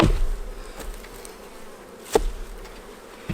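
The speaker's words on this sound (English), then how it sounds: "I can just knock off these bees in front." A steady drone of many honey bees buzzing at a hive in spring fills the clip, close by, with a couple of brief knocks or taps breaking through.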